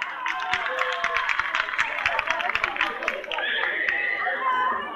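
Audience applause at a live concert in 1992, dense clapping from a crowd with chatter mixed in, loud and steady before settling into a sustained wash.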